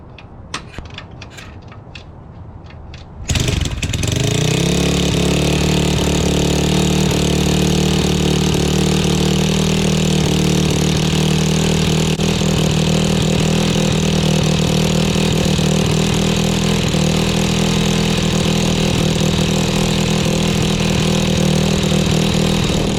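A Pitster Pro X4 160cc pit bike engine, being diagnosed for bogging, starts after a few quiet seconds and then runs at a loud, steady, buzzing idle for the rest of the time.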